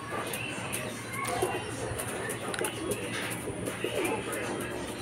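Pigeons coo outdoors close by in soft repeated murmurs, mixed with steady ambient noise and a person talking.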